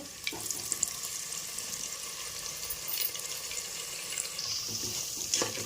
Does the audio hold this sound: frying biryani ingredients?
yes